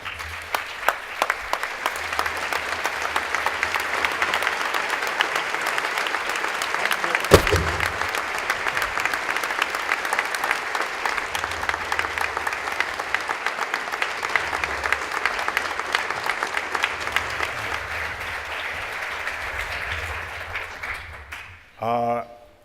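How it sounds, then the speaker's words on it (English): A standing audience gives sustained applause in tribute to Drummond Rennie, a long, even wash of dense clapping from many hands with a sharp knock partway through, fading out near the end. "I hope we could all stand and give him one last round of extraordinary applause."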